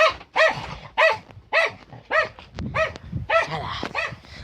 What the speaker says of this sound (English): That's an annoying dog sometimes